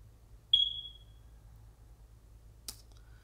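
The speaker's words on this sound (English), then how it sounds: "my smoke detector needs a new battery and it's 10 feet high" A single sharp, high chirp from a smoke detector with a low battery, mounted on a high ceiling, rings out once in a quiet room with a low hum, followed later by a faint click.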